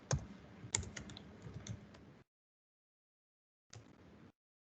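Fingers type an email on a computer keyboard, a close, soft burst of rapid key clicks lasting about two seconds, then a silent pause, then a shorter burst of typing.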